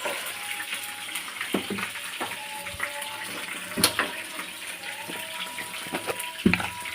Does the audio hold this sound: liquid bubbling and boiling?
yes